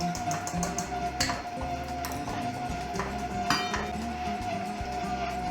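A stand mixer's dough hook kneads homemade garlic knot dough, a steady mechanical motor hum with rhythmic knocking and clinking as the dough slaps the bowl.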